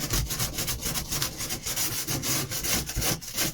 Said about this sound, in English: Give it a little scuff up.